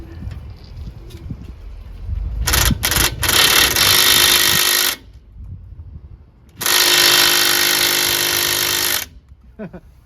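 An impact wrench works the brake caliper bolts on a 2010 Ford F-150 SuperCrew: a few short pulses, then two sustained loud rattling bursts separated by a pause, with quiet shop sounds between.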